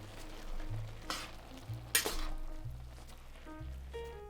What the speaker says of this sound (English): Then add the flavoring bits and stir to distribute them evenly.